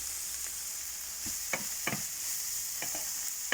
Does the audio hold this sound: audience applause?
no